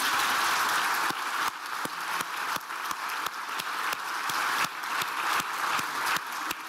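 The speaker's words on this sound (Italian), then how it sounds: "e quindi un grandissimo applauso a Vittorio Sgarbi" Sustained applause from an audience at a live art lecture on Michelangelo in Milan, dense and steady with a few sharper claps standing out, no talking over it.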